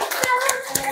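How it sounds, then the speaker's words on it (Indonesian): Applause from a classroom group greeting the second team after a presentation: brief, scattered clapping from a few hands with bright slaps, spread through one second and fairly close. "beri aplaus untuk kelompok 2"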